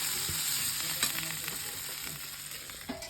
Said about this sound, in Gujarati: મારા મમ્મી વઘારે છે ઢોકળા